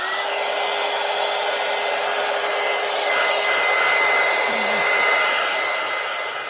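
A hair dryer blows steadily and loudly for several seconds, drying excess paint on a paper collage, with a constant whirring roar and a faint high whine, no voices.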